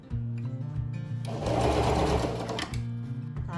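Domestic sewing machine stitching a seam along the side of a small fabric pouch, a steady close mechanical whir that runs continuously and swells in the middle before easing back.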